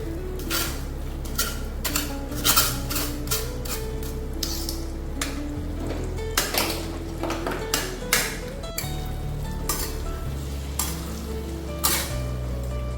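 Boiled mung beans tipped into sizzling fried masala in a pot for a Kathiyawadi mung curry, with steady frying hiss, a few spoon and pot clinks, and close, moderately loud kitchen sounds without talk.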